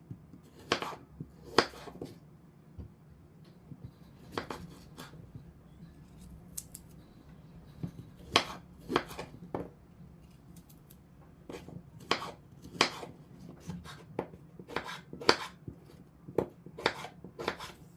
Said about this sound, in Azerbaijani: Göy pomidorları bu qaydada doğrayıram.